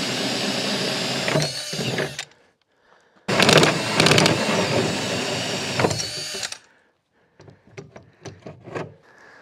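A power drill whines loudly in two long bursts with a brief pause between, then a few short scraping and clunking sounds after it stops, while prepping a greenhouse climate battery system.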